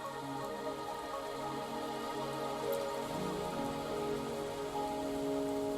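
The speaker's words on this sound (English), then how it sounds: "Are you trapped here by the rain?" Steady rain falls in the video game Wuthering Waves, a continuous hiss of drops on surfaces with layered tonal music playing over it throughout.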